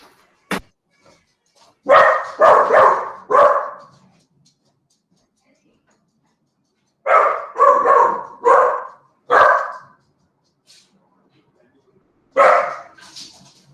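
A dog barks at someone who appeared at a window, a single sharp yip followed by three close, loud bursts of rapid barking separated by quiet gaps.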